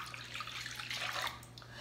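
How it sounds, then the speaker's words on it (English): A cup of water poured into beaten eggs in a mixing bowl for baking, a brief, quiet, continuous splashing run under a low steady hum. "And then you're gonna wanna add your 1 cup of water."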